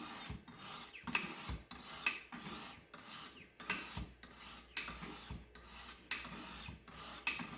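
A blade edge drawn over 600-grit Jende diamond bench stones makes a steady, rhythmic grinding rasp, close and quiet, with repeated strokes about every half second and no talking.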